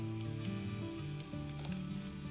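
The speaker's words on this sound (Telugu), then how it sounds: "ఆయిల్ వేడయ్యాక 4 వెల్లుల్లి గబ్బాలని ఇలా చీలికలుగా కట్ చేసి ఆయిల్లో వేసి వేయించుకోవాలి" Sliced garlic fries in hot oil for an eggplant dish, producing a soft, continuous sizzle under quiet background music.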